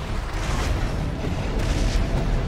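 Explosions rumble in the mech combat video game Armored Core 6: Fires of Rubicon, a dense, loud booming roar with repeated blasts layered over continuous low rumble and no speech.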